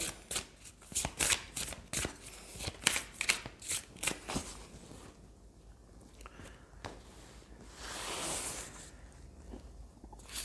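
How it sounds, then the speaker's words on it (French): Oracle cards from a Power of Love deck shuffled by hand in crisp riffling bursts, then a softer rustle and a longer swish near the end, close and fairly quiet. "Alors on va tirer des cartes bien sûr du Power of Love."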